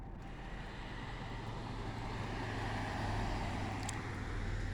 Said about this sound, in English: the traffic just begins right when I come out the door